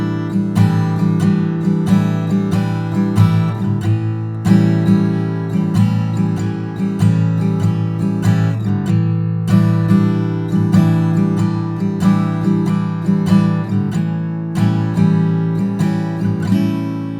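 An acoustic guitar strums the chorus of a song, steady ringing chords in a relaxed even rhythm with chord changes, played alone and close without any voice.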